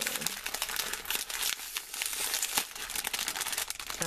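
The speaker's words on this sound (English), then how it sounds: "Sorry for the crinkling, you guys." Plastic packaging crinkles and rustles continuously as a swap package is unwrapped up close, loud and busy throughout with no clear pauses.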